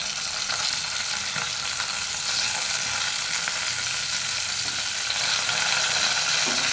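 Vegetables, pumpkin among them, fry loudly in a pan alongside onion and garlic, a dense, unbroken sizzle that holds steady throughout with faint stirring scrapes.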